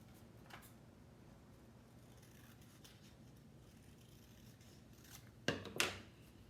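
Scissors cut a fin shape out of blue paper for a children's craft, with faint snipping and rubbing early on and then a few loud, close snips near the end.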